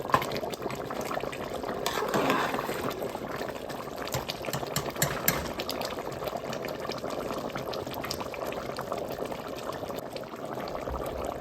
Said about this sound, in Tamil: இப்போ மட்டன் போன்ஸ் எல்லாம் நல்லா பாலில் அவியுது